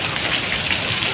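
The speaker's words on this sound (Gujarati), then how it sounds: "ચાલો મિત્રો કરા પડ્યા" Hail pelting down during a windstorm, a dense, loud, continuous patter like heavy rain striking surfaces, steady throughout with no voices.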